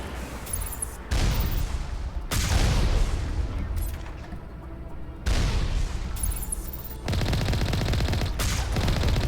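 Sustained gunfire at turrets in Mass Effect, loud, dense bursts of weapon fire that start and stop abruptly in several long volleys, with no talk over it.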